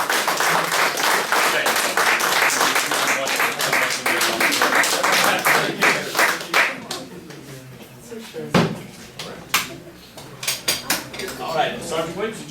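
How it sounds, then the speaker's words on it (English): An audience at a Ramstein Air Base gathering gives a round of applause for a participant. The clapping is dense and fairly loud for several seconds with a voice over it, then thins into scattered claps and knocks. "let's give a round of applause for him"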